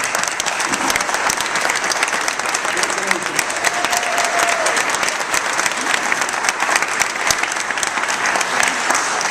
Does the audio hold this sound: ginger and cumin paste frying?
no